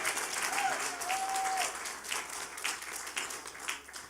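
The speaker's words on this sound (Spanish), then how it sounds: "Dele un aplauso fuerte al Señor." Church congregation applauding steadily for several seconds, a dense wash of clapping that fades slightly toward the end.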